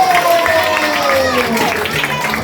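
A festive church gathering of the Ngäbe-Buglé community, with an audience applauding a model on a runway. The applause is a dense, continuous roar mixed with shouting voices and music.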